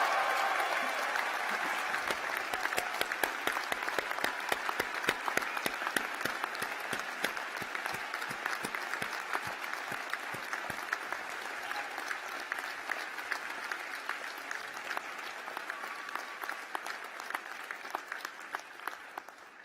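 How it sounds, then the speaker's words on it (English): Graduation ceremony audience for the class of 2017 bursts into sustained applause, dense crowd clapping that holds steady for about twenty seconds before tapering at the end, with faint cheers mixed in. "Give yourselves a massive round of applause."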